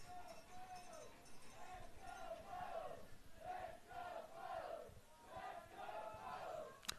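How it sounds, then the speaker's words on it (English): Tufts fans at an NCAA Elite Eight college game chant in rhythmic waves, a crowd of voices rising and falling repeatedly, distant and echoing across the field with game commentary over it. "Let's Go Bows chant going up from the Tufts crowd"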